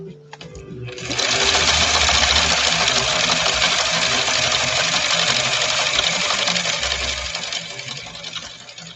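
A 1965 Husqvarna Viking 2000 sewing machine starts up and stitches in a continuous, loud, even whirring hum for several seconds, close by, easing slightly toward the end.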